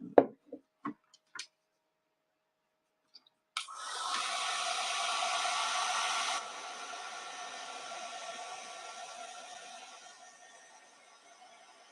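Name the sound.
drying wet craft paint with a dryer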